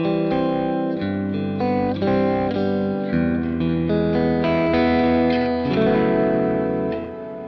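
Electric guitar notes and chords played through a Kemper Profiler's Ionosphere reverb, lush and shimmering, sustained tones washing into one another at a steady, fairly loud level.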